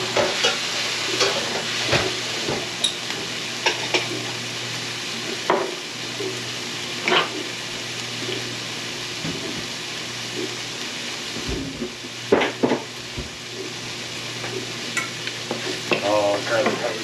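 Garlic cooks in a pan for a breakfast casserole, a continuous close sizzle and crackle with frequent scraping stir strokes and clicks of a utensil against the pan scattered throughout.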